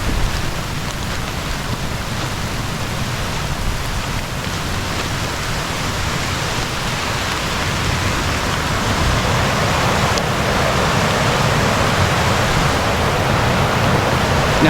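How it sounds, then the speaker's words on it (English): A flooded forest creek swollen by heavy storm rain roars in a continuous broadband rush, loud and steady, swelling slightly louder toward the end, with no voices. "I can hear a roaring sound coming from the forest over here."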